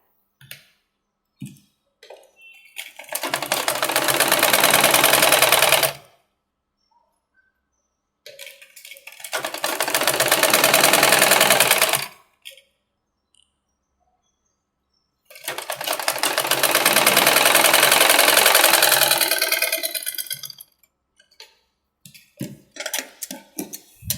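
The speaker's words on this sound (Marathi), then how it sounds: "आणि इथून शिवायचं आहे कडेकडेने." Sewing machine running in three sustained bursts of rapid stitching along the edge of a puff sleeve, separated by quiet pauses with small handling clicks.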